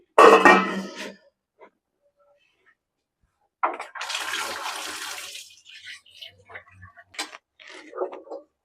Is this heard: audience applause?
no